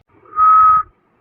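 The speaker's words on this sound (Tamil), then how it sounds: "இவர் இப்ப என்ன பார்த்தா விசில் அடிச்சாரு?" A single steady whistle from a man at a girl in a cartoon, a short flat tone held about half a second, loud and close, with another whistle just starting at the end.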